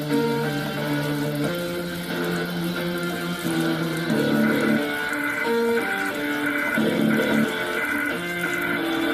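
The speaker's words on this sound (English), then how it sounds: "So I'm just going to put some water in it and see how it holds" Water poured onto a small Sony SRS-XB01 Bluetooth speaker, a steady splashing and trickling wash that runs continuously under the speaker's own tonal output, close and fairly loud throughout.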